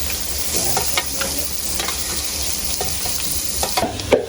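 Onion, green chili, cucumber and tomato stir-fried in a pan in a village kitchen, with a steady close sizzle and scraping stirs from a spatula, growing a little louder toward the end.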